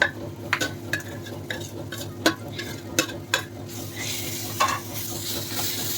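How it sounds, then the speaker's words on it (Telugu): Fried peanuts, salt and grated raw mango tossed together in a pan: repeated spoon clinks and scrapes in an uneven rhythm, close and fairly loud, over a steady low sizzle. "ఉప్పు వేసి కలుపుకొని మామిడి తురుము వేసుకుందాం"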